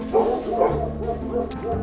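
A small shelter dog yips and whimpers up close in a few quick, rising bursts, loud and near.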